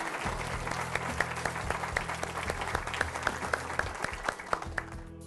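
An audience at a high school presentation event gives a warm round of applause, dense steady clapping lasting throughout with a few sharper individual claps standing out, moderately loud and without talk over it.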